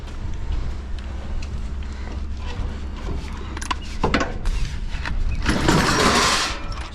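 A load of scrap metal bolts is dropped into a container at a scrapyard, making a steady metallic clatter and rattle that swells into a louder pouring rush near the end.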